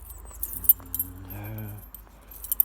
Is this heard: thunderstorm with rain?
no